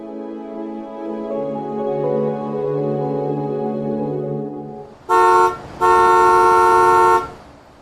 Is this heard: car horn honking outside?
yes